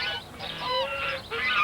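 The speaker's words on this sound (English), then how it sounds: "Lovejoy's a Chinese goose." A Chinese goose honks repeatedly in close, nasal calls, several blaring honks in a row with brief gaps between them.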